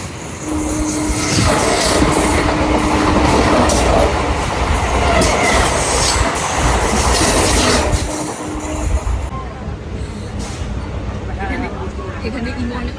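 A passenger train runs from Bidhannagar towards Krishnanagar, its wheels clattering and rumbling loudly in a steady roll beneath a voice talking, then easing slightly toward the end.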